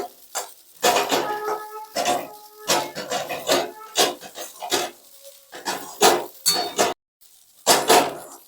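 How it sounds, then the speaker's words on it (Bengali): Metal spatula scraping and stirring chira pulao, flattened rice with ghee, in a pan, repeated rasping strokes in an irregular rhythm, close and clear with no talk. "ভালো করে ঘিটা দেওয়ার পর চালিয়ে নেব"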